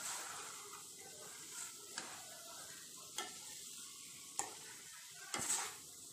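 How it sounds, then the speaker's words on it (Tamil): Grated coconut being stirred into a pumpkin stir-fry, quiet scraping strokes of a spoon in a pan at a few irregular moments over a faint, soft sizzle. "தேங்காய் துருவல் ஆட் பண்ணி நல்லா மிக்ஸ் பண்ணி விட்டுக்குங்க"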